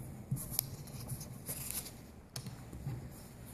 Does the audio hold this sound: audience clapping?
no